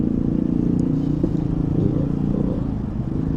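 A 2017 Yamaha Mio Z scooter rides through congested traffic, its engine a steady, close low drone that continues without a break and with no voices over it.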